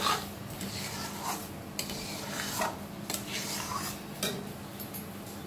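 Sugar being stirred into cooked palm fruit pulp for Bengali taler bora, a spoon scraping and clinking against the bowl in repeated close strokes, with no talking.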